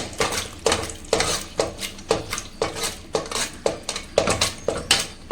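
Cooked dal being churned in a pot with a wooden churner for tiffin sambar, giving a steady run of clattering, scraping knocks at a quick irregular rhythm, close and fairly loud with no talking.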